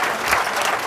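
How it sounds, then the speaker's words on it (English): A poker tournament crowd at Binion's claps through a standing ovation, dense and continuous, with a bright wash of many hands and a faint murmur of voices underneath. "a standing ovation from the crowd here at Binion's"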